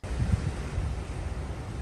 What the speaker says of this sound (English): this side of the island is a lot more windy on average